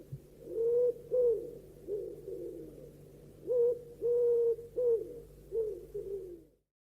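Owl hooting sound effect, a series of soft, low hoots in two groups with pauses between, moderately close over a faint steady hum, with no voices.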